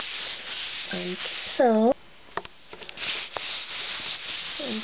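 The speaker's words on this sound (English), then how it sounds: "we will use the sandpaper, just like in a circular motion, gently. We don't want to rub hard. And go in circles" Sandpaper is rubbed gently in circles on a leg to remove hair inside a cast, making a close, soft scratchy rasp that comes in short strokes with pauses. A person talks over part of it.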